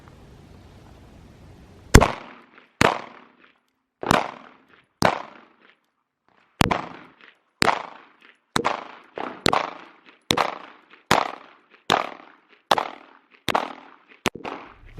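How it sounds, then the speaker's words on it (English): Glock 19 Gen 5 pistol fired steadily, about fifteen crisp shots spaced roughly a second apart, each loud crack followed by a short ringing decay, with no talking. "we got to shoot probably 300-400 rounds"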